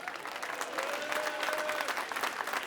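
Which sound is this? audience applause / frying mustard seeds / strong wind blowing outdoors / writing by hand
audience applause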